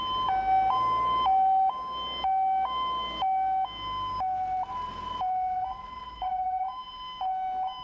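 An ambulance siren wails loudly and steadily in a repeating two-tone pattern, alternating high and low pitches for the whole stretch, close by.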